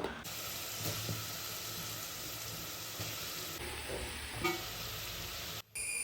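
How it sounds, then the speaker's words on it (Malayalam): Capsicum stirred in a hot pan of oil, a quiet continuous sizzle with a few soft scrapes, briefly cut off near the end; no voices. "ക്യാപ്സിക്കം ഇട്ടെടുത്തിട്ട് നന്നായിട്ടൊന്ന് ഇളക്കി കൊടുക്കുന്നുണ്ട് കേട്ടോ"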